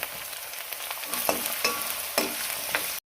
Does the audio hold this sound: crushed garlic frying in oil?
yes